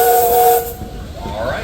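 A steam traction engine whistle at a steam power show in Sycamore, Illinois blows one loud, steady blast with a hissing edge, then cuts off into open-air background noise and a faint rising whistle tail.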